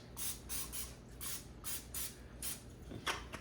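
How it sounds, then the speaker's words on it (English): Cooking spray is spritzed onto a bread pan in a run of short, soft bursts, about eight quick hisses in a loose rhythm, close and fairly quiet. "Give it a little spritz"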